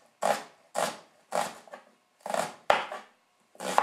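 Six crisp knife strokes through onion on a cutting board, each a sharp chop with a short rasping tail, spaced evenly about half a second apart, close and clear with no talk.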